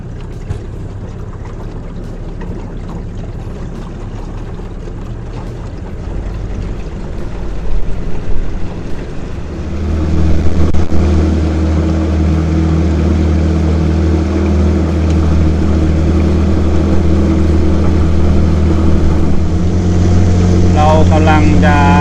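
A boat's engine, warmed up for nearly ten minutes, drives the boat away for a trip on the sea at Pak Meng, Trang. A low, rumbling drone swells and settles into a loud, steady hum, with someone speaking over it.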